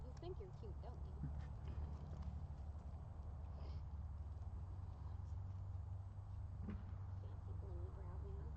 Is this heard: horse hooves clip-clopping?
yes